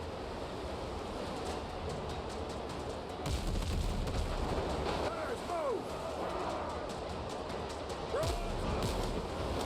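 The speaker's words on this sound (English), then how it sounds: "Nice thing by shooting the front cannon" Ship cannons boom in the naval video game Windrose as gunboats come under attack, several dull blasts standing out over constant ocean waves and wind, with a brief whistling sweep between shots.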